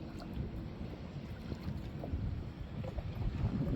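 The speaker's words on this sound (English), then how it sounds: "Motor's running pretty good." An electric dinghy motor runs offshore on open water with a steady, low hum under wind noise and the wash of water, heard close and fairly quiet.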